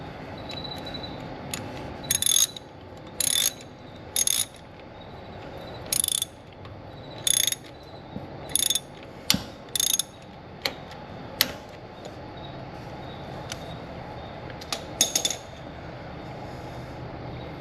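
Ratchet clicks in short bursts while a new oil filter is tightened onto a John Deere Z970R zero-turn mower, sharp close clicking spaced irregularly over a faint steady background hum.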